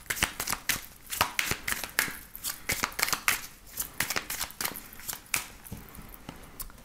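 Oracle cards are shuffled by hand in quick, crisp riffles and flicks, a rapid irregular rhythm of close papery snaps in a quiet room.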